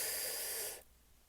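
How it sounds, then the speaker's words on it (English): A deep breath drawn in, heard as a close, soft, airy hiss that holds steadily for under a second and then stops. "Okay, breathe in"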